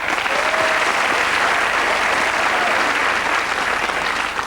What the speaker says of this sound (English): a round of applause, please, for the lady in canary yellow